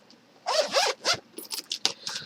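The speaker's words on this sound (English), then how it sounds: "And it also has a zipper pocket for cash." A zipper on the cash pocket of a personal-size Filofax planner is pulled in a few quick rasping strokes, close and crisp, followed by lighter short zips and handling clicks.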